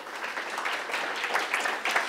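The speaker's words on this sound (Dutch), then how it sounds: "Hartelijk applaus, Angelo Vermeulen." A science café audience applauds to welcome a speaker on space, a steady rush of many hands clapping at moderate distance, sustained throughout without voices.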